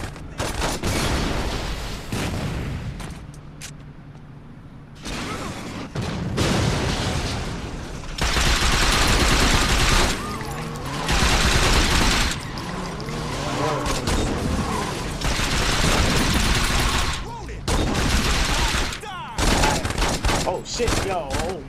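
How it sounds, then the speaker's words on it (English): Rocket launcher fire and heavy explosions in the video game Saints Row 2, loud bursts of blasts and gunfire arriving in repeated waves over a dense, chaotic mix, with occasional talk beneath. "They got fucking rocket launchers."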